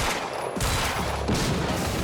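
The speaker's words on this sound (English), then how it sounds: "I wonder if those can explode" Loud, dense gunfire and blasts as objects are shot and explode in the Quantum Break video game, a continuous close barrage with a heavier surge partway through.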